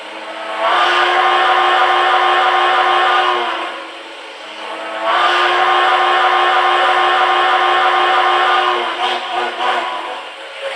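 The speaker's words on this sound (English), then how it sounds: "That's the new and improved whistle that I've put on this engine." A model train's steam whistle blows in two long blasts, steady and high, loud and close, with a brief dip between them and a faint mechanical hum underneath.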